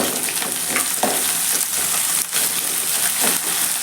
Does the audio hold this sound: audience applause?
no